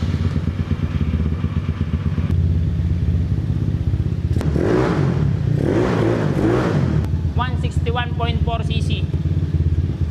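A cold Yamaha Mio 4 scooter with a 161.4cc engine idling loudly and close, revving up in the middle before settling back to a steady putter, while someone talks over it.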